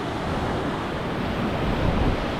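Big ocean surf breaking on a beach at Salalah, Oman, a dense continuous roar of waves with wind noise, loud and steady throughout with no voices.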